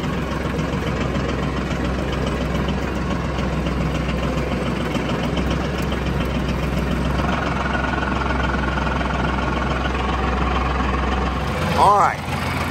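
A heavy tractor engine idles steadily and close by with a low, constant rumble, and a brief squeaky mechanical sound rises near the end.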